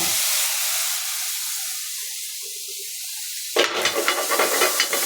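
Potatoes hit a hot pan in a home bachelor kitchen: a faint, fading hiss gives way to a sudden loud burst of steaming, crackling sizzle that fills the final second and a half.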